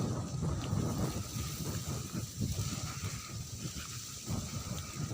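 A continuous soft hiss of rain falls throughout, with low rumbling underneath, fairly distant and even in level.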